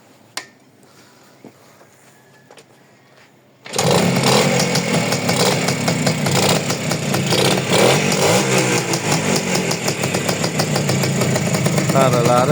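A used car with a freshly imported engine, quiet at first with a few clicks, then the engine starts abruptly and runs loud and steady at close range, rough and roaring, with talk faintly underneath.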